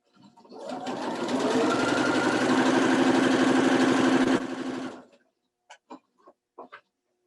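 A sewing machine runs in one continuous, fast, even whir for about four seconds while chain piecing quilt pieces, then stops, followed by a few soft clicks and handling taps.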